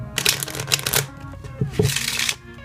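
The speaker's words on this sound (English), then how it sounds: "give the cards a quick shuffle" A deck of playing cards is shuffled in two quick riffles, each a close, crisp burst of rapid flutter with a brief tap between them.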